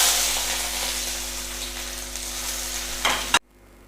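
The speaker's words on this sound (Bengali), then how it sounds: "এবারে পেঁয়াজ দিচ্ছি" Onion hitting hot oil in a wok with cumin and chilli already in, giving a loud, steady close-up sizzle with a brief burst of stirring before it cuts off abruptly.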